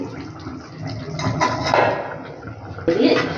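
A lid set down on a cooking pot of Kashmiri aloo dum, with soft kitchen clatter and a louder knock near the end while someone talks throughout.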